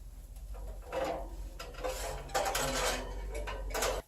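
Roasted pumpkin in a pan pulled from the oven of a wood cook stove, with metal scrapes, clanks and a door-like clunk against steady low background rumble, no talking.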